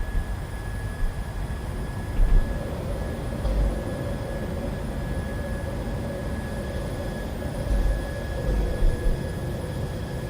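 A PMDG 737-600 climbing out after takeoff in Microsoft Flight Simulator: a steady, broad engine roar with a thin whine held throughout, swelling slightly at moments, with no talking.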